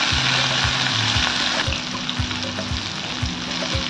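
Taro stolons (kochur loti) hiss and sizzle in hot oil tempered with black cumin, for a dish cooked with mustard and poppy seed. A utensil stirs the pan in a rhythmic pattern under the constant frying sound, with no speech.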